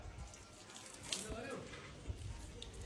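Water pouring steadily through a pipe from a neighbouring house while the water pump is broken, a soft continuous gushing flow nearby with no talk over it.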